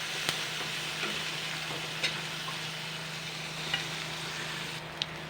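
Chopped tomato, onion and ginger paste stir-frying in hot oil for a fish curry, a steady close sizzle with a few sharp clinks of the spoon stirring the pan, no voices.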